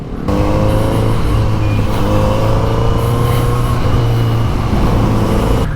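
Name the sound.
Kawasaki Z900RS motorcycle riding at night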